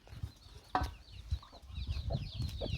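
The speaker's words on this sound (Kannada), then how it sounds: "ನಾನು ಕೋಳಿಗಳನ್ನ ತೋರಿಸ್ತೀನಿ ಈಗ" Several chickens cluck in short, scattered bursts around a poultry house, with a few louder close clucks standing out over a soft continuous farmyard background.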